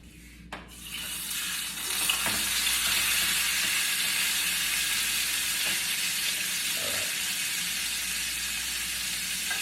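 Steak searing in butter in a hot pan, a steady loud sizzle and fry hiss that starts quietly and holds constant for nearly the whole stretch, with no talking.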